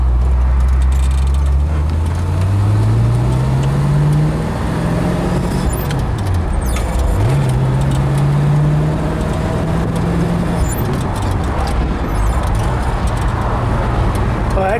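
A 1965 Pontiac GTO convertible on a road test drive, its engine droning loudly and steadily from inside the car, revs rising and falling through gear changes and a slowdown during a U-turn.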